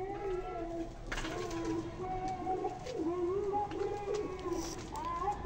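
Pet pigeons in a home bird coop, with chickens kept nearby, cooing in steady overlapping calls close by through a morning routine, with no talk.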